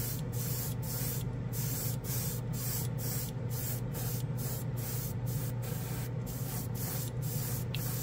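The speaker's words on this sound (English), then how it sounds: "if you spray it, you can actually see it evaporate" Kustom Service metal color paint sprayed from an airbrush-style gun, a continuous close hiss broken by regular short pauses, about twice per second, with no voices.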